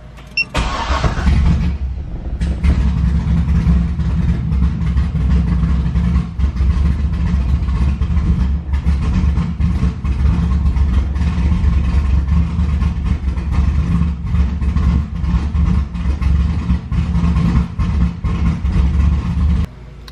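A car engine cranks, catches and settles into a loud, steady idle close by, rumbling on without a break for about twenty seconds.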